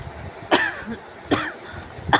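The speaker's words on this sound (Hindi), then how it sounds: "और खांसी लग गई मुझे" A woman coughs three times in short, sharp bursts spaced about a second apart, close and clear with no talking.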